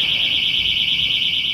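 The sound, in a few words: boat security door alarm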